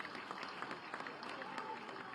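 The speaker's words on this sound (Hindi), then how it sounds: "आप करतल ध्वनि से जोरदार ताली बजा करके इनका स्वागत कर लीजिए।" A crowd claps steadily at a political rally in Gorakhpur, a faint, distant and continuous patter of applause with no breaks.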